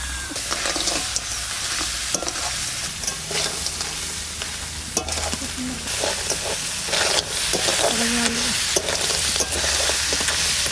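Crab sautéed in a pan Sundarbans style with its red roe, giving a steady, close sizzle and hiss broken by scraping stirs and occasional clinks, with no talking.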